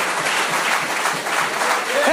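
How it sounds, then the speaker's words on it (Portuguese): A church congregation applauding during a Sunday morning service, steady close crowd clapping filling the whole brief moment, a faint voice rising near the end. "Quem pode aplaudir ao Senhor nesta manhã?"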